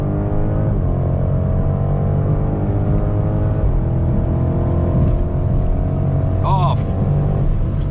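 A BMW Alpina B5 with a 4.4-liter biturbo V8 pulls at full throttle on the Autobahn, a steady loud engine drone with rising harmonics heard from inside the car, a brief word spoken near the start.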